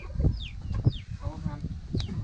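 Geese call out on a rural farm in Isan on a cool, drizzly day, with several short honking cries breaking through nearby voices and background chatter.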